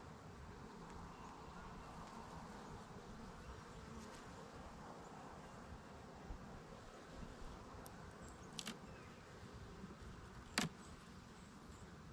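Honey bees hum in a steady, dense drone from an open hive being inspected, with a few faint clicks and knocks.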